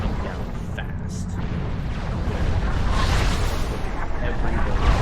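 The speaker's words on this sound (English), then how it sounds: "artillery, long-range artillery, trying to thin the herds of ground units" Long-range artillery in a strategy video game, dense rumbling booms and blasts rolling together in a continuous barrage that grows louder, with talk over it.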